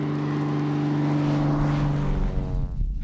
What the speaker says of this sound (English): Some small airplanes have skis that help them land on frozen lakes and rivers.